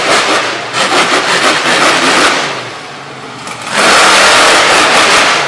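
The Buckshot, a monster Hummer truck, roars loudly with its engine revving hard and continuously, dipping briefly before surging back up to a sustained full-throttle blare.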